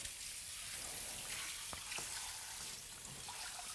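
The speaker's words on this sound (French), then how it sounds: "On a un robinet de flexeur." Water runs steadily from a kitchen tap with a flexible hose into a sink, a constant close hiss with a couple of faint clinks, no talking.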